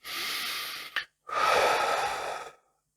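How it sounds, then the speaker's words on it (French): One person takes a slow deep breath during a relaxation exercise, a long, airy inhale, a brief pause, then a longer exhale, heard close and alone. "faire ça en faisant une grande respiration"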